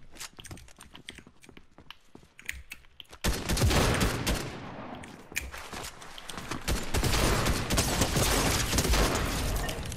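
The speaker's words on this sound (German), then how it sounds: "Digga, du überlebst 3 Schüsse mit der Pumpgun." Pump shotgun blasts in a Fortnite one-on-one gungame match on a Nuketown-style map. Loud, sharp shots come in quick succession, with the firing getting denser and heavier in the second half.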